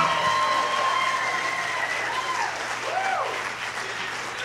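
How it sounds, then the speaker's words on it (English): A crowd gives sustained applause for young drummer Ryder Markham, continuous clapping filling the room at an even level, with a few faint voices mixed in. "Can we have a fantastic round of applause for Ryder Markham?"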